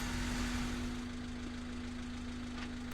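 A car engine idles in the video game What Remains of Edith Finch, a faint, steady low hum with a constant tone that holds evenly and quietly the whole way through.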